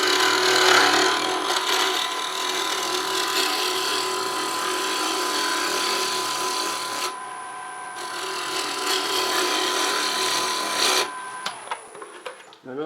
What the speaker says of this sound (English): I'm kind of up here now on a shear cut